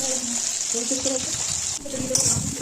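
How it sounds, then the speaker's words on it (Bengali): Salted, turmeric-rubbed fish sizzles in hot oil in a pan, a steady close hiss running throughout with faint tonal background sounds and a brief dip partway through. "মাছ ভাজা বসিয়ে দিয়েছি"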